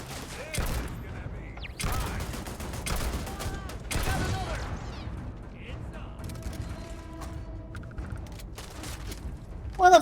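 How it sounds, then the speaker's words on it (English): Turret gunfire in Starfield, with sharp repeated bursts in the first half that mix with mechanical clanks and creaks, and a voice speaks in between. "Oh, that's a turret."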